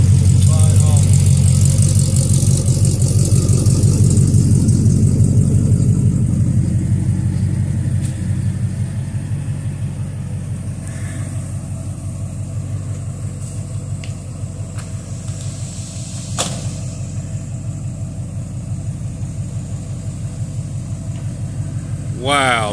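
A 1979 Chevrolet C10 square body pickup engine runs at a steady idle, a constant low rumble throughout, close and fairly loud, with voices talking over it early on.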